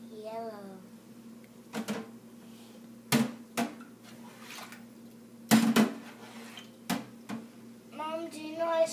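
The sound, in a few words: washing dishes in a sink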